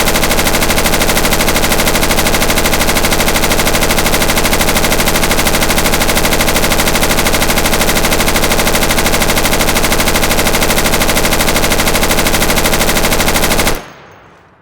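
Sustained automatic fire from a bipod-mounted machine gun in the shooter game Insurgency, one loud unbroken dense burst lasting about fourteen seconds before cutting off abruptly.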